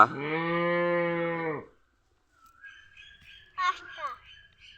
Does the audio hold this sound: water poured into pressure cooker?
no